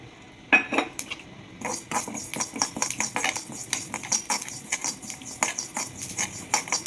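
Sesame seeds roast in a pan for gongura pachadi while a spoon stirs them, giving an irregular run of dry scraping and metallic clinks up close, with no talk.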